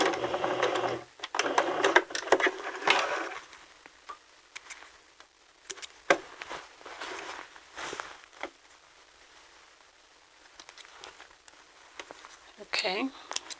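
A sewing machine backstitches a seam in a fairly close, busy burst at the start, then a few softer intermittent runs follow, with a voice speaking partway through.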